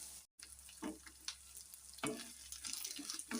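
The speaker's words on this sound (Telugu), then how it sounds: "వీటిని అయితే ఒక 5 నిమిషాలు అయితే వేపుకోవాలి" Meal maker soya chunks fry in a pan with a steady sizzle, broken by occasional stirring scrapes and clatters, with no talking.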